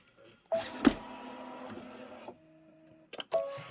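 A Kimberbell quilting project sews on an embroidery machine running a placement stitch: short bursts of whirring motor and needle, a sharp click, then a pause before the motor starts again.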